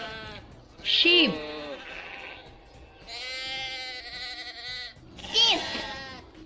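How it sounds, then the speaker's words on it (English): A domestic sheep bleats several times, wavering nasal calls with pauses between, one long drawn-out bleat in the middle and sharper cries at the start and end, close and loud. "sheep,"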